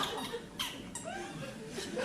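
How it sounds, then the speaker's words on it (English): A squeaky chair creaking in a quiet interview room, several short high squeals and groans as it shifts, close and fairly faint over a low room hiss. "got a bit of a squeaky chair."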